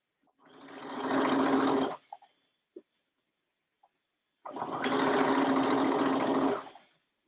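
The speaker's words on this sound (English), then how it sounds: "then we'll start stitching that under stitch" Domestic sewing machine understitching the facing of a lined dress at the neckline and armholes, running in two steady sustained bursts of about one and a half seconds each, separated by a quiet pause with faint small clicks.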